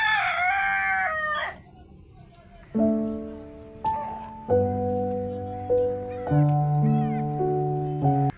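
A miniature rooster crows loudly and close by, one long strained call, followed by a series of other tonal animal calls rising and falling.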